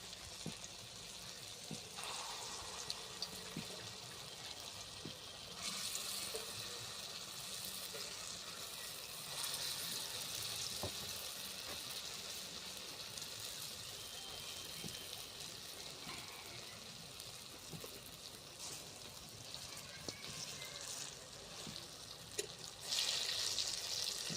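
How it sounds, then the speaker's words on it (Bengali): Khesari lentil fritters (bora) with greens and potato fry in hot oil, a steady close hiss and sizzle that runs throughout with small crackles and occasional louder spits. "তেলটা গরম হয়ে গেছে আর এদিকে আমার ব্যাটারটাও তৈরি হয়ে গেছে ওর মধ্যে এবার দিয়ে দিচ্ছি তেলের মধ্যে টকের বড়াটা"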